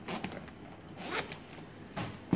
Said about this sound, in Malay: Dan kita ganti yang baru, kita zip sahaja.